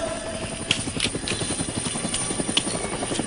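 A helicopter comes down to land, its rotor chop loud, close and steady throughout, with no talking.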